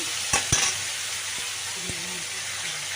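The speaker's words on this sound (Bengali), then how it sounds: "নুন দিয়ে একটু নাড়াচাড়া করে নিচ্ছি" Tomatoes with salt stirred in a frying pan during a mushroom curry, a continuous sizzle with a few sharp spoon scrapes and knocks against the pan near the start, close and clear with no talking.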